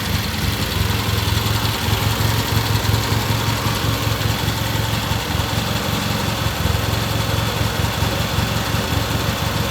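Vintage British motorcycle engine idling steadily nearby with a rough, throbbing low rumble and constant mechanical clatter throughout, no voices over it.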